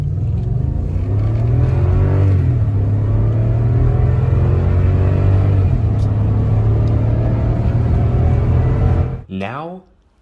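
A Toyota Land Cruiser 200's 5.7-liter V8 runs loud and close with a deep steady rumble, its pitch rising and falling with revs before cutting off sharply near the end.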